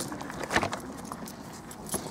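Two sets of keys jangle briefly at a touring caravan door: a few quick metallic clinks close by in a quiet space.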